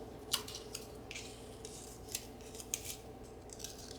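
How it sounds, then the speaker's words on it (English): Scissors snip through paper ephemera in several short, crisp cuts, close and fairly quiet, spaced irregularly against a soft background. "I think I'm going to trim this part off and just use it like this."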